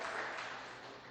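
A church congregation applauding together during a worship service, a brief dense wash of clapping that holds steady, then eases slightly toward the end.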